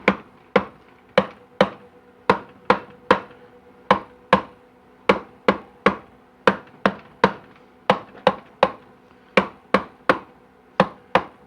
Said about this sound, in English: Grab you the butt of a good hammer.